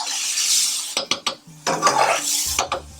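Metal spoon stirring curry base gravy mixture in a pan, a steady scraping run broken by several sharp clinks and scrapes against the metal, close and fairly loud with no talking.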